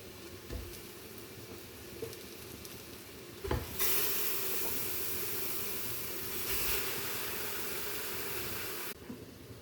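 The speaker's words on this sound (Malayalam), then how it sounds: "അപ്പോൾ ഇത് നന്നായിട്ട് ഇളക്കി കുറച്ച് വെള്ളവും ചേർത്തിട്ടുണ്ട്, ശകലം വേകാൻ വേണ്ടിയിട്ട്." Chicken leg pieces stirred in a spiced curry with a little added water, a loud broad sizzle and hiss that swells after a scrape, then cuts off near the end, no voices.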